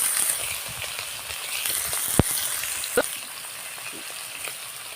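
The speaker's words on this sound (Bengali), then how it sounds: "চিংড়ি মাছটা দিয়ে দিচ্ছি আমি ভেজে নেবো" Prawns fry in hot oil in a pan for a greens dish, giving a steady, close sizzle throughout, with a couple of sharp clinks in the middle.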